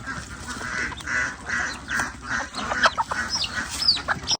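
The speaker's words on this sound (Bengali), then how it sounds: "আমাদের মুরগিগুলোকে খেতে দিচ্ছিলাম" Chickens cluck and ducks quack together at feeding time in a noisy, overlapping flock chorus close by, with busy honks and squawks throughout.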